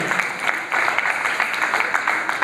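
Audience clapping during a Jain monk's religious discourse, steady broadband patter with irregular individual claps, moderately loud, continuing for a couple of seconds with no talk.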